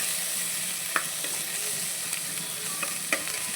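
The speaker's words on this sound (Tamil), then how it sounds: "நல்லா இந்த மாதிரி வதக்கிடலாம்" A ginger-garlic mixture sautéing in a pan gives a steady, close sizzle and frying hiss, with occasional light clicks of a stirring spoon.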